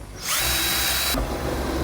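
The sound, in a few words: power drill drilling through metal with a Christmas tree bit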